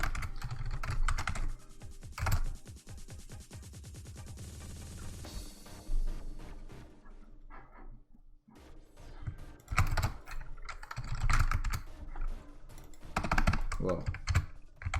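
Rapid keystrokes rattle across a computer keyboard during emulator programming work, a dense burst of close clicking for the first half, then a brief pause and more clustered bursts of typing.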